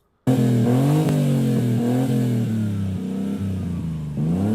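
A car engine still running its stock intake revs loudly and close up, holding a sustained, wavering roar that dips and climbs in small surges, with no voices over it.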